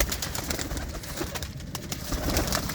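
Pigeons in a loft kept by a village fancier coo softly and continuously, the low murmuring calls overlapping against a steady rustling background, with no voices over them.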